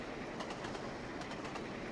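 Coal-fired steam train coasting downhill on the Settle and Carlisle route in Trainz, giving a steady rolling rumble with faint rhythmic rail clicks, moderately loud and continuous, with no voices.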